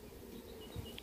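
A honeybee swarm in a hive, a faint low steady buzzing hum from many bees heard close but quiet over the full second, with no voices.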